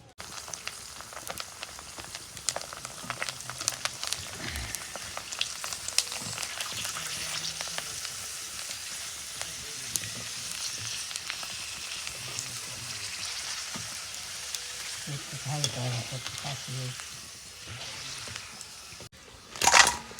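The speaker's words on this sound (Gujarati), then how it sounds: "કાશી પૂરી એ તળાવી એટલે ફૂલી જાય આખી પૂરી" Puris deep-frying in hot oil crackle and sizzle steadily up close for a long stretch, with occasional clinks and stirring sounds and a louder bump near the end.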